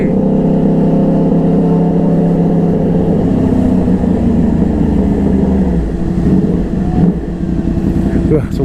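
A Yamaha R1 crossplane motorcycle idles and revs nearby, its engine and exhaust giving a deep, throbbing rumble that eases off toward the end, with people talking over it.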